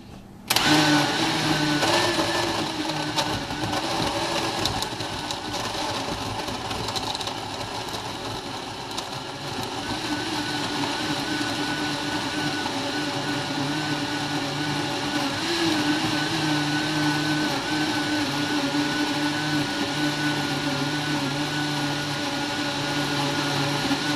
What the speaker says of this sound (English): Last time we used the blender, I should say.